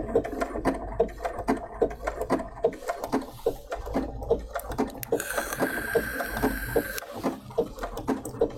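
Domestic sewing machine stitching a Burda 7142 coat, running in a quick rhythmic chatter of needle strokes with brief pauses, plus a short higher whine partway through; no talking.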